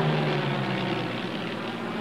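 A Rolls-Royce Merlin aircraft engine roars in a steady, powerful drone with a throbbing propeller hum, loud and continuous, with no voices.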